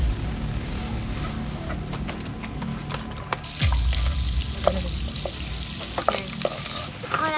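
Popcorn cooks in melted butter while a spoon stirs it in a pan at a backyard camping setup, giving steady sizzling and frying with scraping stir strokes and a few sharp clicks, fairly close.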